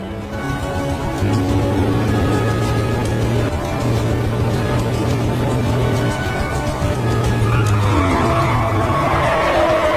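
Video game car revving hard and accelerating toward a collision, a loud steady engine drone with rising pitch and tyre noise, continuous and up close.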